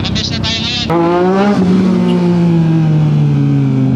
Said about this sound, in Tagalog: yung mga big bike na yan di lang bumobomba just for the sake of bomba malamang nagre-rev match yan